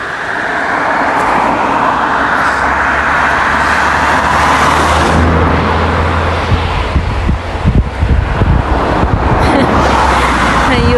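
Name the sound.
vehicles passing on the road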